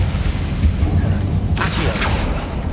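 Incendio fire spell cast in Hogwarts Legacy, a low rumble under which a bright whooshing burst of flame flares up briefly partway through, then trails off.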